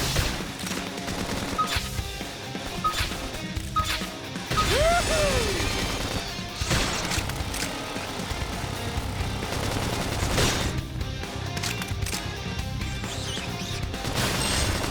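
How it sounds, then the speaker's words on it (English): Combat in the video game Xenoblade Chronicles X erupts with gunfire and grenade blasts, rapid bursts of shots and sharp explosive crashes layered with mechanical clanks and whirring effects, loud and continuous throughout. "Couple them with some gunfire!"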